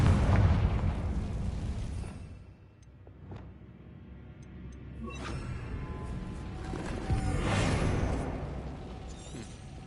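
A Confringo blasting spell goes off in the video game Hogwarts Legacy, producing heavy, rumbling explosive bursts that swell, dip and surge again over several seconds, with no talk.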